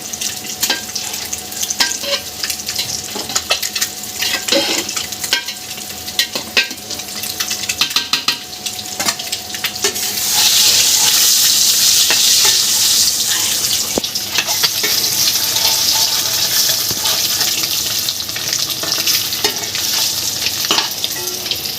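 Potato pieces frying in hot oil in a pan for Bengali-style egg biryani, a loud continuous sizzle with scraping stirs, growing hissier midway, with no talk over it.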